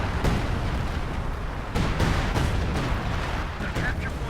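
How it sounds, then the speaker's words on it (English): 155mm artillery shells pound a base in the video game Company of Heroes 2, with several sharp, heavy blasts landing over a rumbling battle din while a voice talks over them. "he's dropping the 155mm on the base"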